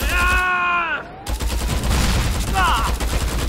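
Gunfire in the video game Mercenaries 2: World in Flames, a burst of shots cutting in partway through, with tonal voice-like sounds before and after.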